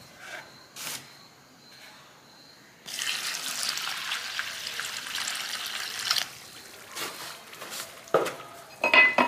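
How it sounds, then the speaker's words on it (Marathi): Water pours steadily into a pot for a few seconds, with faint clinks of utensils before and after. "आता याच्यामध्ये पाणी टाकायचं"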